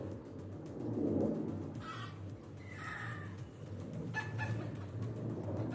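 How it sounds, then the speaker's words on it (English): A rooster crows in the distance, its faint call repeating a few times amid a noisy outdoor background of rumble and hiss in Puerto Vallarta. "Same rooster we heard earlier."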